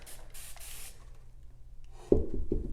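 Short bursts of hissing spray from a bottle misting water onto wet paint on a mirror, a few quick pumps, followed by a louder wet splashing sound near the end.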